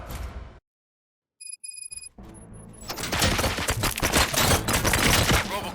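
Gunfire in the video game RoboCop: Rogue City breaks out after a brief silence and a few electronic beeps, then a rapid, loud burst of shots and impacts rattles on continuously to the end.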